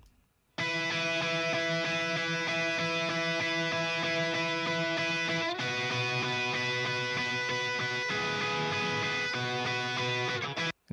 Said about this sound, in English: I have a guitar that sounds like this